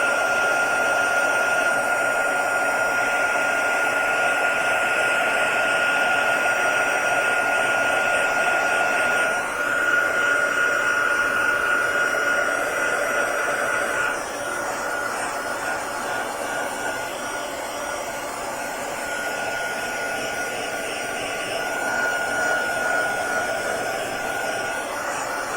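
A hot air blower heating material to spread it on a pizza platter, whirring steadily and loudly nearby throughout, its pitch shifting slightly as it moves.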